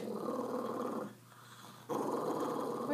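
A pet dog growls in a low, continuous rumble, steady and close for about a second, breaking off briefly before resuming at the same strength.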